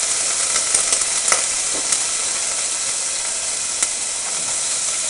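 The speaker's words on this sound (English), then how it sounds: "Want to get that garlic in there and brown it up." Minced garlic sizzles steadily in olive oil in a pot, a continuous close frying hiss with a few light clicks of stirring scattered through.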